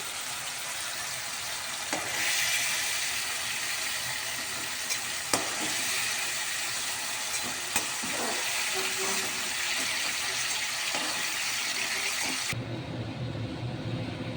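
Mushrooms frying in oil, a steady dense sizzle for about twelve seconds with a few sharp crackles and stirring clicks, close and fairly loud, then cutting to a quieter, lower background at the end.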